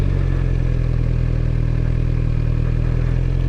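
A motorcycle ridden by a beginner, its engine a steady close low rumble with rapid firing pulses, holding an even level throughout without clear revving or braking changes.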